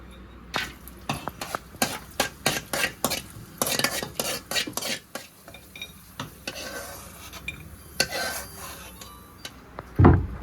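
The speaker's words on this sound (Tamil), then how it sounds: "இப்போ இந்த முந்திரி பருப்பை வறுத்து எடுத்துடலாம்." Cashew nuts fry in a small amount of oil in a pan while a utensil stirs them, producing a rapid series of scraping, clattering strokes over a light sizzle that then settles into a quieter hiss.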